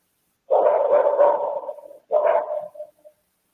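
A dog barks in early-morning quiet: two drawn-out, moderately close bark bursts separated by a short pause, the second trailing off into a brief yip, with no talking over it.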